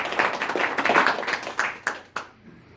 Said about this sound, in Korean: 이러한 신설 부서원들에게 여러분들의 힘찬 격려 박수 부탁드리겠습니다.